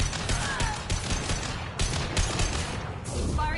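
Rapid gunfire from Mass Effect 2 Legendary Edition, a dense continuous volley of overlapping bursts under a busy combat mix with game music.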